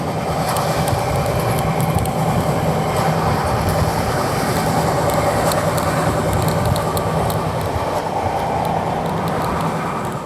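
Visakhapatnam–Mumbai LTT SF Express running near Manmad Junction, heard from inside a sleeper-class coach: a loud, continuous rumble and rattle of the moving train with faint clicks of the wheels, steady throughout.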